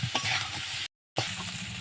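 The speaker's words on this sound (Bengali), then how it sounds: "আমি নুন আর হলুদটা পরিমাণ মতো দিয়ে দিলাম আর একটু কষিয়ে নেব" Spices with salt and turmeric stir-fry in a pan, a close, continuous sizzle with scraping stirring, broken by a brief moment of silence before resuming.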